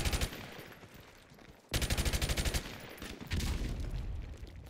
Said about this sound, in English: Just shoot them.